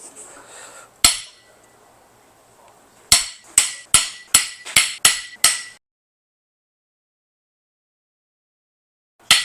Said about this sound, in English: I'm going to go ahead and use my breaker bar and just break these loose